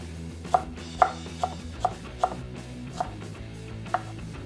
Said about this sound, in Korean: 대파는 얇게 썰어주고 햄은 먹기 좋은 크기로 썰어주겠습니다